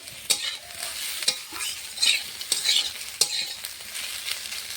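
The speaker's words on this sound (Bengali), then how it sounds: "উচ্ছে আর আলু ভাজা হয়ে গেছে, নামিয়ে নেব।" Bitter gourd and potato pieces fry in oil, sizzling steadily while a utensil scrapes and stirs the pan in periodic knocks.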